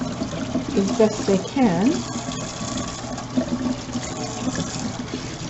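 Tap water runs while avocado skins are scrubbed clean of leftover flesh for dyeing lace, a steady close wash under a speaking voice.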